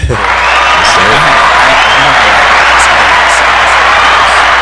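A dense crowd roar of applause and cheering fills the whole stretch, loud and steady, with whoops rising above the clapping.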